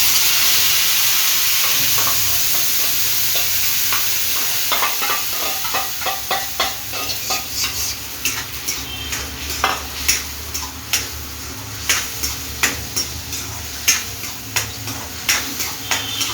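A paste of onion, tomato, ginger and garlic fries in a pan with a soft hiss, while rhythmic stirring scrapes and taps grow more distinct and regular toward the end.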